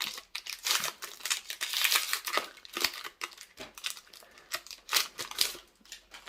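A Pokémon booster pack from the Star Étincelante set is torn open, its foil wrapper crinkling and crackling in close, irregular bursts with no voice present.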